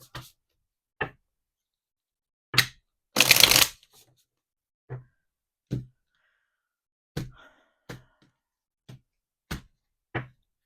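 Tarot timing cards being shuffled: a string of short, crisp card snaps spaced about a second apart, with one longer riffle-like burst near the start, close and alone in an otherwise silent room.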